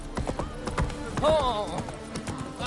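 A horse galloping in the video game The Witcher 3, its hoofbeats clip-clopping in a quick, steady rhythm under game sounds, with a brief exclamation from a man partway through.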